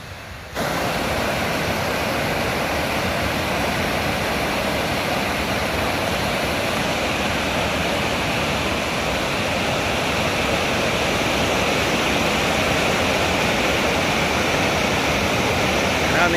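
High water rushing loudly through a stream, a dense steady roar of flowing water, close and constant for the whole duration, starting abruptly after a brief quiet moment.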